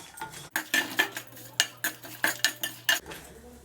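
Chillies, spices and cashews sautéed in a pan while a spoon scrapes and clinks against the metal in a quick, uneven rhythm of sharp strikes, close and clear with no talking.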